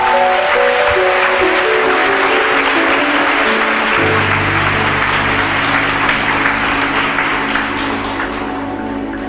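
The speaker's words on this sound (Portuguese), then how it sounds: "Merece uma salva de palmas a Virgem Maria." A congregation at Catholic Mass applauding in a church, sustained dense clapping from many hands that fills the space throughout, with music playing underneath.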